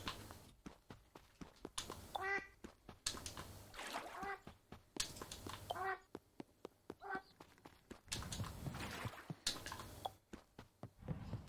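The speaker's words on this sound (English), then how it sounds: "I like the sounds that these ducks make." Ducks in the video game Spirittea give a few short, bright quacks, spaced apart and mixed with soft clicking footstep-like taps and splashy game sounds.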